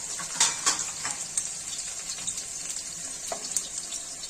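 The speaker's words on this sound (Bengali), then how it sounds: "আলুগুলো আমার ভাজা ভাজা হয়ে গেছে।" Potatoes fry in a pan for a vegetable curry, a steady, close sizzle with a few sharper scraping stirs near the start.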